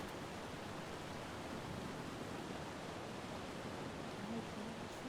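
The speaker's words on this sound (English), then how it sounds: "Magnificent waterfall, huh?" Steady broadband rush of a waterfall in the video game Ark Survival Evolved, a continuous even roar with no breaks that holds at a moderate level throughout.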